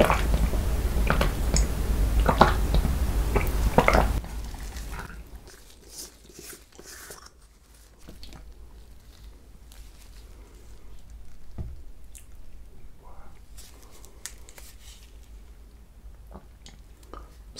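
Close, crisp chewing and biting on chocolate ice cream, a Magnum Classic, KitKat and milk chocolate with Nutella, loud squishy bites at first, then softer crackles and wet mouth sounds.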